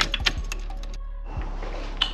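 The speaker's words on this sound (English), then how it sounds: "they tell me that clicking is the fuel pump" A 1985 Oldsmobile Cutlass G-body fuel pump clicks, giving sharp, close, irregular ticks and taps over a low steady hum, with a brief pause in the middle.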